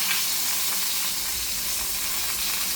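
Pot roast searing in a hot pan gives a steady, close sizzle and hiss of fat, constant and fairly loud throughout with no talking.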